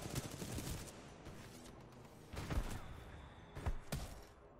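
Titanfall 2 gunfire: scattered bursts of shots and a few sharp impacts at a distance, faint and intermittent over a low background.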